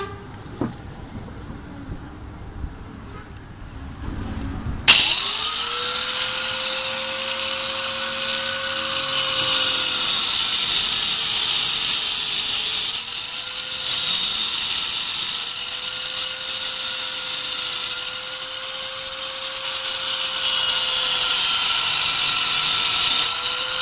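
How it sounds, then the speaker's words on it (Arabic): An angle grinder cuts a slot into a water pump part, starting with a sudden loud whine and then holding a sustained high-pitched grinding tone that dips slightly as it bites into the metal. "راح نستخدم الكوسرة. الكوسرة شو نسوي؟ راح نسوي شق هنا هالشكل بهاي الطريقة."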